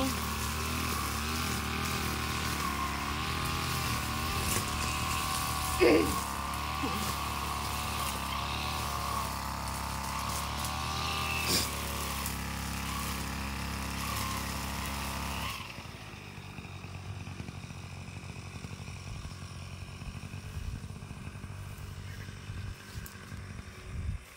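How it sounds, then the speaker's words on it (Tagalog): Gasoline grass cutter clearing thick grass on a rice paddy dike in the Philippine countryside, its engine droning steadily at high revs with a few brief surges, then dropping to a lower idle for the last third. "Grass cutter."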